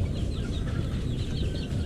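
Shamo chickens cluck softly in a yard, with scattered low bird calls over a rumbling outdoor background, faint and a little distant.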